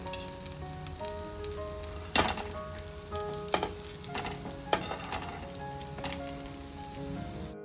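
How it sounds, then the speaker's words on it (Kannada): Millet and oats dosa fries in oil on a pan, a steady crackling sizzle marked by a few sharper pops and spatters, with a faint tonal hum in the background and no talking. "ಸ್ವಲ್ಪ ಕೆಳಗಡೆ ಆಯಿಲ್ ಹಾಕ್ತಾ ಇದ್ದೀನಿ"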